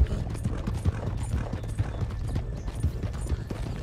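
Horse hooves clip-clop in Red Dead Redemption 2, a quick irregular run of hoof thuds under game ambience, fairly loud and close throughout.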